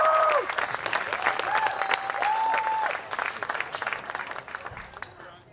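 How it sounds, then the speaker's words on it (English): Audience applauding an award winner at a wagon train crew gathering, a full, sustained burst of clapping from a crowd with a voice briefly heard over it, easing off toward the end. "We should clap a little harder for him."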